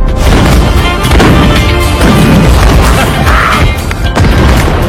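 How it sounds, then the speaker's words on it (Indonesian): Loud fireworks burst continuously in a dense barrage of booms and crackles, with no pauses, all close and powerful. "Y'all do fireworks here too?"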